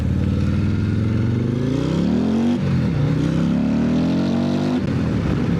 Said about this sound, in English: We are on the 2025 CVO Street Glide with a 135 crate motor straight from Harley